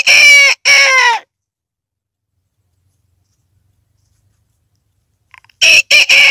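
A voice imitates a red junglefowl's crowing call, two sharp bursts, a long silence, then another short burst of crowing, loud and close.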